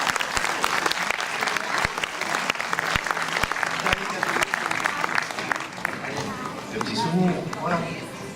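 Audience applause at a short film festival award ceremony, a steady crowd clapping with scattered sharp claps, while voices talk over it near the end.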